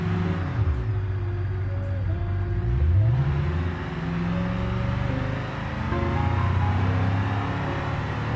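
A car drives steadily along the road after a convenience-store stop, its engine a continuous low rumble with gentle rises in pitch as it accelerates and shifts, heard close from inside with no talking.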